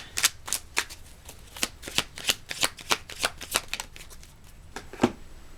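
Tarot cards being shuffled by hand, a run of quick, crisp riffling bursts in a fairly even rhythm, close and clear with no talk over them.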